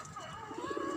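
A pigeon coos softly on a rooftop garden, one short low rolling call rising in the middle and heard nearby in quiet surroundings.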